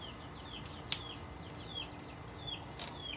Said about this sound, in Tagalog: Hayaan mo yung manok, huwag mo na ilabas.